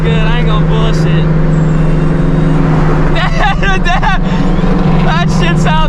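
A Dodge Hellcat engine roars steadily and loudly up close, a constant low rumble throughout, while people talk and chatter over it.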